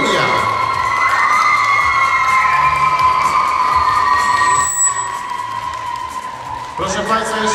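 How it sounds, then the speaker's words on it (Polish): Applause and cheering rise from the crowd at a national IDO modern dance championship for under-11 duets in Tarnowo Podgórne as the winners are announced, sustained and loud, with the announcer's amplified voice sounding over it. "Brawa wielkie. Wielkie brawa."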